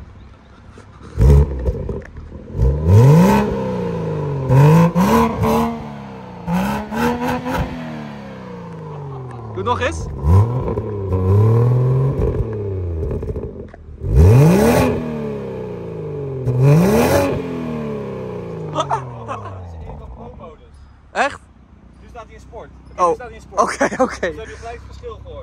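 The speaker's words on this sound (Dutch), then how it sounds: "ga even reffen. Ja, ga eens even reffen. Oké, film de uitlaat." A BMW M440i M-Performance engine revs hard through the exhaust several times in quick bursts, each roar rising and falling, with people talking between the revs.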